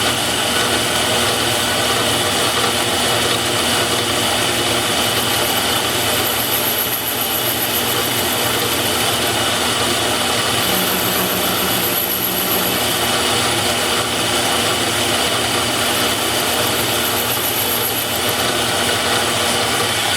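A carbide cutter machining a hard steel round on a lathe gives a loud, steady, dense grinding roar with a faint high whine, running without pause and without talk.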